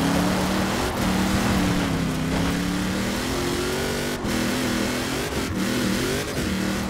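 Car engine revving in the Forza Horizon 4 racing game, a loud continuous drone that rises and falls steadily with brief dips between gear changes, with no talk.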